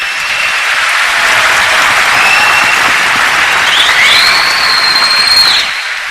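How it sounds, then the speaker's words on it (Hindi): Loud, sustained audience applause fills the whole stretch as a dense, even roar of clapping that tapers off near the end, with faint whistle-like tones rising above it. "तो भरपूर ताली बजाएं"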